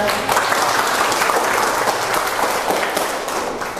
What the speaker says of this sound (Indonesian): Ya, aplaus dulu untuk Pak.